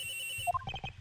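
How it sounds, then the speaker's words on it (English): A short electronic cell phone ring tone chirps in a rising and repeating pattern in the Ace Attorney Investigations video game, brief and clear over soft background music. "The ringing is coming from somewhere around here, but it's not here, sir."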